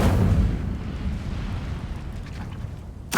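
A fire spell is cast in Hogwarts Legacy, producing a loud roaring whoosh with heavy low rumble that fades slowly over a few seconds before a sharp burst at the end.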